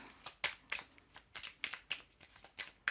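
Tarot cards are shuffled by hand in a quick riffling rhythm of soft, papery flicks, close but quiet, with no speech over them.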